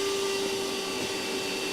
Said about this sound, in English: water for a vacuum is probably one of the hardest things to vacuum up or to suck up